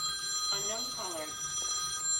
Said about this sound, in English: my phone rings continuously because no one's in the office